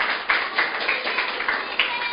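A church congregation claps in unison, a steady, fairly even rhythm of hand claps that sounds a little muffled and moderately loud, with no talk over it.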